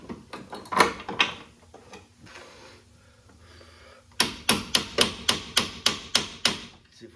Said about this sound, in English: See if we can hammer a socket on there.